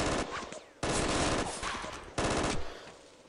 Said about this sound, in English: that was a machine gun, wasn't it?